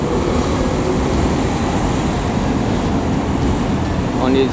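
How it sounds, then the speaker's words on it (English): A tram passes on its dedicated lane on an Istanbul street, a loud, steady rolling rumble over city traffic that lasts the whole stretch, with a brief high squeal near the end. "So we have the tram"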